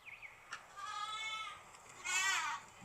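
Goats bleat in two wavering calls, the first drawn out and moderately loud and the second louder and brighter, with no talking.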